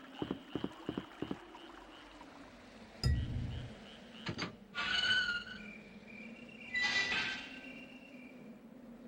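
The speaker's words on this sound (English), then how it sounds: "That's some high-quality cricket noises" Night ambience in the PS1 game Resident Evil 3: Nemesis: quiet rhythmic chirping and croaking creatures, a short burst of low rumble, then shrill repeated chirps drifting in the distance, no talking.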